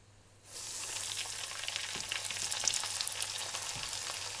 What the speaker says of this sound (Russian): Приступаем к жарке рыбы.